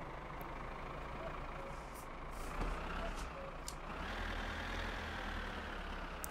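A truck in the driving game My Summer Car reverses slowly to couple with a trailer. Its engine holds a steady, low, rumbling drone throughout with a few faint high clicks over the top.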